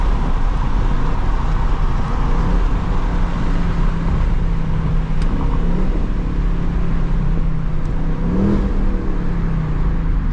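A 2024 Ford Mustang GT's engine revs loud and close while driving, a steady roaring drone with pitch rising and falling through gear changes and no voices over it.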